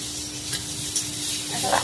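Potatoes sizzle in a pan with turmeric and salt, a steady close hiss with occasional stirring scrapes and small crackles, no voices.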